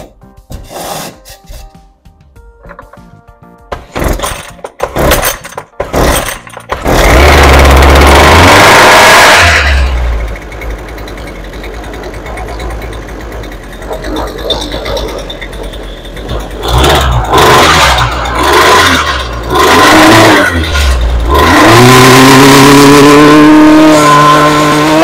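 A Husqvarna 128LD string trimmer, just fitted with a repaired fuel line, is pulled several times with sharp rasping cord tugs, then its small two-stroke engine catches and runs loud and close, with revving surges toward the end.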